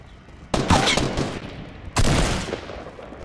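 Two sharp bursts of gunfire from the Fortnite video game, each a sudden loud crack or short volley trailing into a ringing decay, roughly a second and a half apart with no talk over them.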